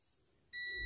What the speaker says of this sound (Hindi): तो यहाँ पर इसको बजर की रेंज पे रखा है मैंने